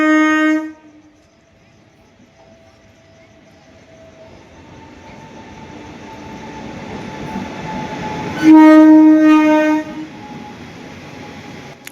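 A train pulls into an Indian railway station with rumbling wheels building steadily, then a loud horn blast sounds near the end for over a second, harmonic tones ringing out above the rolling noise.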